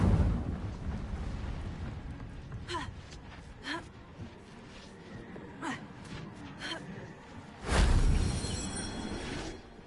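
A fire spell cast in a magic video game lands as a sudden loud whooshing burst near the end, after scattered softer whooshes and gasps, with a spoken incantation heard earlier.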